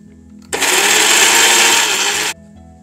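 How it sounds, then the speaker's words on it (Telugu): A mixer grinder blends medium tomatoes with four green chilies in one loud, steady whirring burst lasting about two seconds, starting and stopping abruptly over quiet room tone. "ఇప్పుడు దీన్ని మనం మిక్సీ పట్టుకోవాలి."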